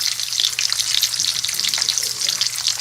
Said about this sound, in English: It's time to have home fries, a second helping. Sizzle it up.